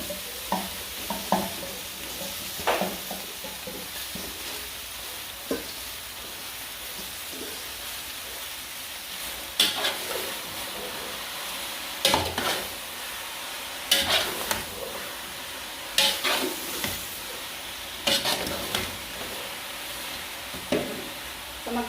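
Mixed vegetables stir-fry with sauce for a Thai stew in a soft, steady sizzle, broken every few seconds by sharp clatters of a utensil tossing and scraping the pan.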